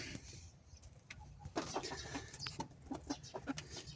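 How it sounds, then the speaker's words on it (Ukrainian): Chickens being let out of their coop into a summer run cluck in short, repeated calls close by, over a steady background hum. "Курочки заходять у свій літній вигул."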